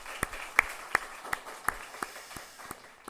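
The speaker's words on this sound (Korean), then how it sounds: "우리 큰 박수로 한번 축복하도록 하실까요?" Applause from a church congregation during a Sunday worship service, heard as scattered, fairly faint sharp claps spread over a few seconds.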